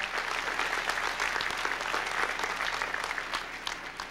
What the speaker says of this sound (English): she deserves another round of applause